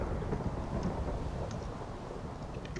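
A video game thunderstorm rolls on: low rumbling thunder under a constant wash of rain and scattered drops, steady and full throughout, with no voices over it.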